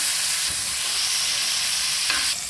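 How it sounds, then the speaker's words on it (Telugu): Eggplant frying in a pan until golden brown, giving a loud, dense, continuous sizzle close by with a couple of brief stirring scrapes, and no voices. "చూడండి వంకాయ ఇలా ఫ్రై కావాలండి గోల్డెన్ బ్రౌన్లోకి కొద్దిగా మారాలండి"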